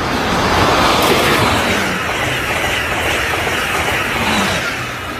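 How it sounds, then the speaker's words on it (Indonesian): A toy super-fast train gives off a loud, steady rushing rumble with a rail-like clatter that holds evenly from start to finish and eases slightly at the end. "Kereta super cepat teman-teman."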